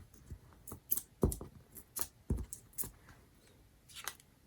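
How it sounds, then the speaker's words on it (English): Adhesive dimensionals have their backing peeled off during a paper-craft stamping project, a string of faint, crisp little clicks and crackles heard close up in a quiet room. "And then I'll peel off the back."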